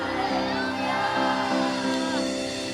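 A church congregation shouts together during a worship service, a loud sustained crowd roar of many voices rising and falling over nearly three seconds, close and dense.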